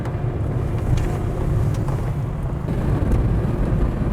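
A car rolls along a gravel road with a steady low engine and tyre rumble, broad road noise filling the cabin with small crunchy crackles throughout.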